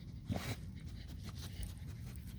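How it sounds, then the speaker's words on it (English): A dog panting steadily on an outdoor walk, rapid breathy huffs close to the microphone, heard alone with no talking. "Dog ASMR part 2"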